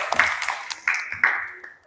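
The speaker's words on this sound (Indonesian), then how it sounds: "beri tepuk tangan kepada kelompok yang barusan maju" A few scattered claps from a classroom audience applauding a group of students who have just presented, sharp individual hand strikes rather than full applause, short and fairly close.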